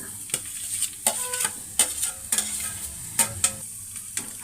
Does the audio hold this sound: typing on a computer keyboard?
no